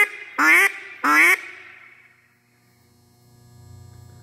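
Two loud, close nasal quacks blown on a Buck Gardner duck call, evenly spaced about half a second apart, followed by quiet with a low electrical hum.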